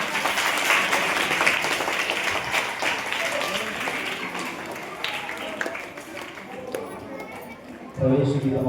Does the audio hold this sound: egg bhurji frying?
no